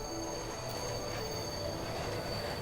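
A train rumbles in the cat puzzle game Bright Paw, Act 3, Level 10 "Disembark": a steady, loud rolling drone with high, sustained wheel-squeal tones and no speech.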